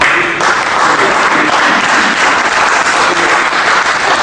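An audience at an evening awards event applauds with dense, continuous clapping, loud and even throughout, with no voices over it.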